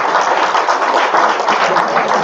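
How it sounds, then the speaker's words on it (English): An audience at a county candidate forum applauds the moderators, a dense, loud burst of many hands clapping that fills the room without a break. "Let's give them a round of applause"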